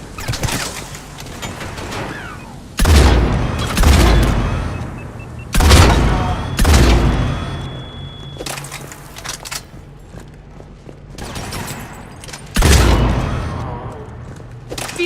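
Gunfire in Mass Effect arrives in heavy, booming bursts separated by quieter mechanical clanks and creaks, several loud volleys repeating over a steady background.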